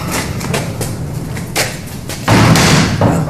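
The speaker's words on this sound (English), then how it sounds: "We'll shut the door." A door being shut indoors, with a couple of soft thumps and then a firmer closing bang near the end, close and fairly loud, with no speech.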